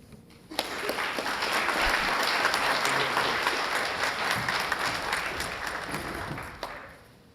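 A police awards ceremony audience applauds steadily for about six seconds in a dense wash of clapping that fades out near the end, with no talking over it.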